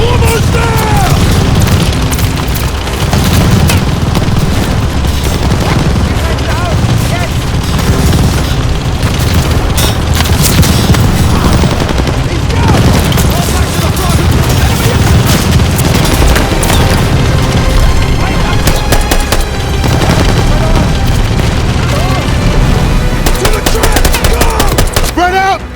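Machine gun fire in a Call of Duty: Vanguard battle, loud continuous bursts and booms with explosions layered over a constant din, while soldiers shout orders under the gunfire.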